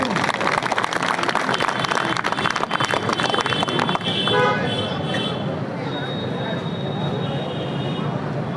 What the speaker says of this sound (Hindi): एक बार जोरदार तालियां साथियों।